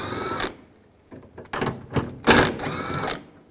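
A 10mm socket wrench works nuts off the liftgate handle of a 2002-2009 Chevrolet Trailblazer, heard as a few short bursts of ratcheting clicks with pauses between, close up and unaccompanied by talk.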